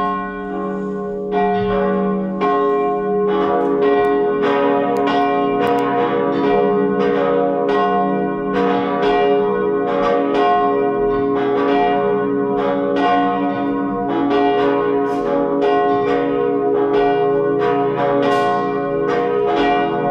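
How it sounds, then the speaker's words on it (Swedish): Cathedral church bells ring continuously in an overlapping, rhythmic peal after a Sunday high mass, with clear repeated strikes and long resonant tones filling the air. "Låt oss nu lyssna till klockringningen."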